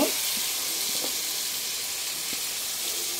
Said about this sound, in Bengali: এই কাটা পেঁয়াজটা এটার মধ্যে দিয়ে দিব।